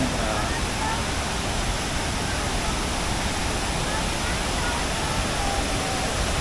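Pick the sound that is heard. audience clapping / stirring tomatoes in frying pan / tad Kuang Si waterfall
tad Kuang Si waterfall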